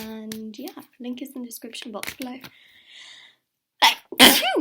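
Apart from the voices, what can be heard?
sneeze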